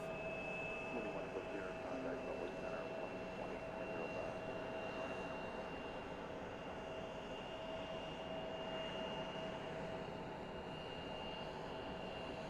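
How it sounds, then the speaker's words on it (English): A United Boeing 737-800 taking off from Boise Airport, a faint distant engine rumble with a steady high whine, heard alone and continuous at low level. "that's the United Boeing 737-800 going out to Denver, Colorado today"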